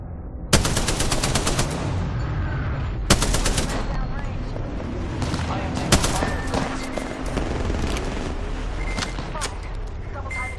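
Bursts of automatic gunfire in the Apex Legends video game, including a Flatline rifle, crackling in loud rapid volleys with brief pauses between them while players talk over the shooting.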